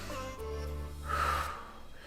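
A forceful exhaled breath during a Pilates mat workout, a single audible huff of air rising midway over a low background hum, close and clear.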